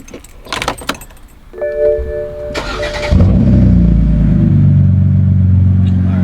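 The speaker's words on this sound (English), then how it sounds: "Ooh, fresh startup. Hey, yo, this is the loudest 320i y'all have ever heard in y'all life." A BMW 320i at a car meet: keys jangle and brief handling noises, then the engine cranks and fires into a loud, steady idle that holds close to the microphone until the end.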